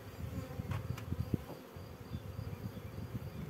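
Wild honeybee swarm taken from a beech tree hollow, a faint continuous buzzing hum with a few scattered brief knocks and rustles nearby.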